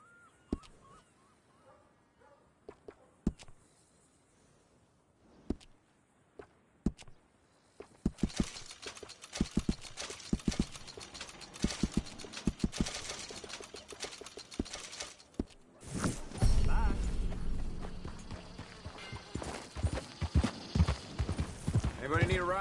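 Horse hooves clip-clopping in Red Dead Redemption 2, sparse steps at first, then a busier stretch of hoofbeats and street bustle that swells louder near the end, with voices talking throughout.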